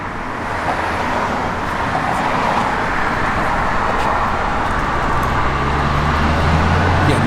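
A 1967 Chevrolet Camaro engine runs steadily at idle, a loud continuous low rumble holding even for several seconds with no voices.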